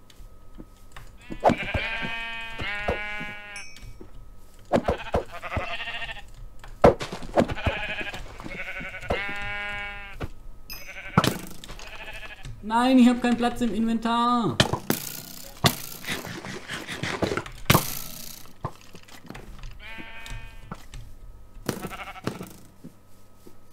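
Sheep in the video game Minecraft bleat repeatedly, with several wavering calls in irregular bursts mixed with clicks and block-breaking knocks, while someone talks briefly between them.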